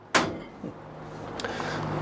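A single sharp wooden knock of an RV kitchen drawer, followed a moment later by a softer second thump, against a quiet room hum.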